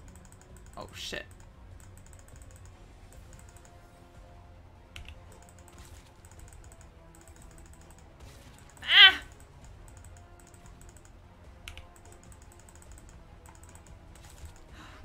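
A computer mouse clicks during a game, with a few sharp isolated clicks spread across a quiet stretch, one louder click in the middle, and faint keyboard tapping in the background.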